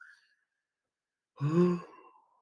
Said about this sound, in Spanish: Estamos bostezando, pero ya nos vamos a reponer